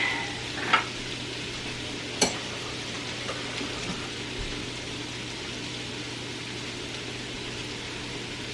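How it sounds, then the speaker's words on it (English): Onions and garlic sauté in a pan, giving a soft steady sizzle throughout with a couple of sharp utensil knocks near the start, close but fairly quiet, no talking. "Stir for 5 minutes to saute everything"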